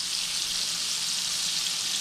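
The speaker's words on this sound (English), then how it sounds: "And it's frying up pretty good right now. In that grease, in that margarine." Deer tenderloin fries in margarine and sausage grease in an uncovered pan on the stove, giving a steady, even hiss of sizzling with no talking.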